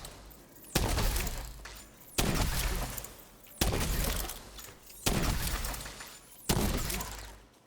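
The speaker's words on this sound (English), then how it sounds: "Cannons again." Cannons in a video game fire five heavy booming shots at steady intervals of about one and a half seconds, each a loud broadband blast trailing into a rumbling decay, with no talking over them.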